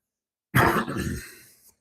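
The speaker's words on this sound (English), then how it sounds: "I had to cough" A single short cough, close and fairly quiet, with silence before and after.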